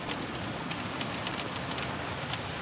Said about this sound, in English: Cause this has been raining all day.